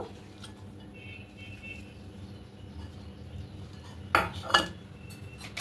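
Grated cheese is mixed into corn kernels with chopped coriander using a utensil in a bowl, soft quiet stirring followed by two or three sharp clinks of metal against the dish near the end.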